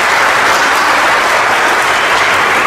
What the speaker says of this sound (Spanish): Un aplauso pues para el hermano,